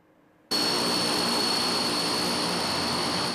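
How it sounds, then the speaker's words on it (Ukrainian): A firefighting airplane of Ukraine's State Emergency Service, used against forest fires in Montenegro, starts up abruptly from near silence as a loud, steady engine roar that carries on to the end. "Першим до гасіння долучився літак Української держслужби з надзвичайних ситуацій."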